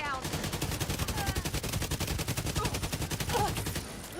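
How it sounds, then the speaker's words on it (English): Rapid automatic gunfire from The Division video game, a dense string of regularly spaced shots that runs steadily for several seconds at close, loud level, with a few brief interface beeps and faint voices underneath. "Some bad shooting."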